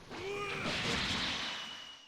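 A Super Explosive Wave attack in Dragon Ball Xenoverse 2 erupts as a loud, sustained blast. A roaring burst swells with whooshing, sweeping tones and holds for about two seconds before slowly fading, with no talk.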